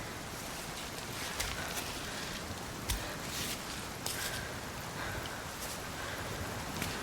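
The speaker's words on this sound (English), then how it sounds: "Oh, of course, now it starts raining." Rain falling in the video game Cairn, a dense, steady hiss of close rainfall throughout with occasional faint taps and rustles rising above it.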